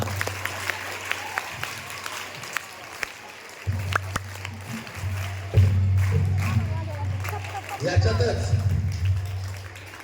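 An audience at a school education-week event breaks into applause, bursts of clapping building and fading over about ten seconds, with a voice speaking through the noise.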